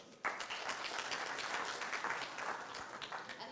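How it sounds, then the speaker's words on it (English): A tech week audience in Nairobi applauds for a panelist, sustained crowd clapping starting abruptly and holding steady, moderately distant with no clear voices. "Ladies and gentlemen, kindly give a round of applause for Ambassador Philip Tigo."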